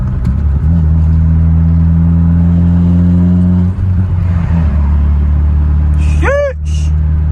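A car with a newly installed custom exhaust drives along, its loud low drone holding steady before easing off, followed by a brief voice near the end.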